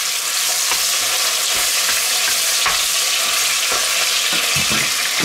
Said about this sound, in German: dann brutzeln wir drin unser Fleisch und unseren Bacon an